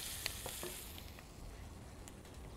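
Large fish pieces searing in a hot pan for a seafood soup give a soft, steady sizzle with a few scattered small pops, fairly faint throughout.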